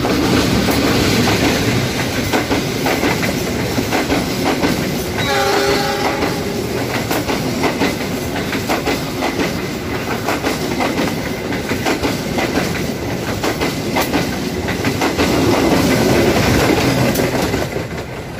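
A train on the KA Serayu line, hauled by a locomotive, rumbles loudly and steadily nearby with a rhythmic clickety-clack of wheels on track, and brief squealing tones partway through, at Manonjaya station, Indonesia.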